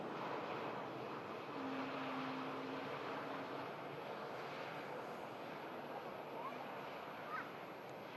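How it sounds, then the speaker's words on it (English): A Turkish airliner starts its takeoff roll bound for Istanbul, a steady broadband engine roar heard from a distance that holds evenly throughout with wind noise and a faint tone mixed in. "The Turkish on the roll now to Istanbul."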